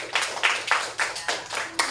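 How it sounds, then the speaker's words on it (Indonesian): A fifth-grade primary school class claps in unison for a pupil, about eight sharp, evenly spaced group claps in quick rhythm, close and moderately loud. "Tepuk tangan dulu buat Serida."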